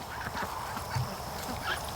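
Ducks, including Rouen, Peking crossbreeds and Dalmatian ducks, quacking in a barnyard, a few soft scattered quacks within a busy, noisy flock ambience.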